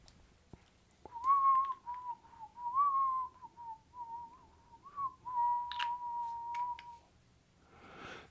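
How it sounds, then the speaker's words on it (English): A person whistles a slow, wavering tune in long held notes, close and clear with short pauses between phrases. "I'm going to be whistling out a tune"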